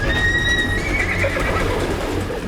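A horse lets out a loud, close whinny with a high, wavering pitch that drops and fades into a rough breathy tail over a steady background rumble.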